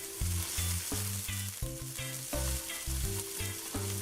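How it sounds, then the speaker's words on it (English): Onion, curry leaves and fenugreek seeds sizzle loudly in a hot pot of oil for a Trinidad curry goat, a steady frying hiss broken by repeated rhythmic bursts, close and with no voices. "Along with the onion, I'm gonna add the curry leaves and the fenugreek or mathee seeds."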